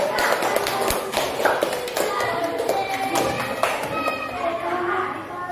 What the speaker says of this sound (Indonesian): Tepuk tangan yang lainnya